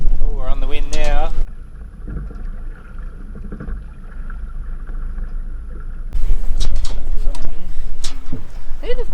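Wind and water rush past an Ultimate 18 rock-keel sailboat picking up speed under sail, a steady breezy wash running throughout, with people talking near the microphone at the start and end.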